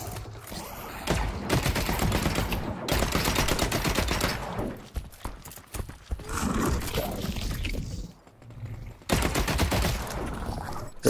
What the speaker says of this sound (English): There's so much gunfire going on.